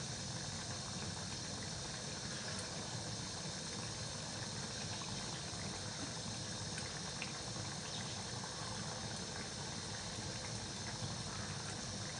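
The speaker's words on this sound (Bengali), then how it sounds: "এখন এটা ফুটবে, আলুটা সেদ্ধ হয়ে যাবে" Potatoes boiling in a pot, a steady dense bubbling hiss that holds evenly throughout with no talking.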